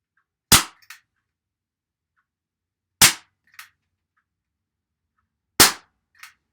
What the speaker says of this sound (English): Not a bad grouping for a little 22 air pistol.